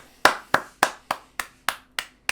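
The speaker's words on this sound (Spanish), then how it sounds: "ponerme en pie y aplaudir al señor Antonio Lobato por ese uno menos." Single person clapping hands in slow applause, eight sharp, evenly spaced claps close to the mic over faint background hum, with no talk.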